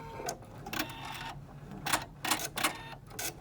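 A Viking Epic 2 sewing machine starts an embroidery run with bursts of rapid mechanical stitching and clicking. The bursts are separated by short gaps, close up, and no one talks over them.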